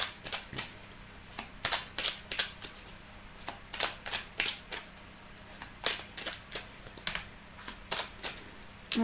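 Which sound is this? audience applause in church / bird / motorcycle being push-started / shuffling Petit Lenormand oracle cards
shuffling Petit Lenormand oracle cards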